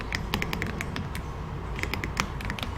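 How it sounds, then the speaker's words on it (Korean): Computer keyboard keys pressed during a Ctrl+V paste in a computer class, a scatter of light clicks and taps with several sharp presses close by, no talking. "키보드에서 컨트롤 키를 누르고 있는 상태에서 V."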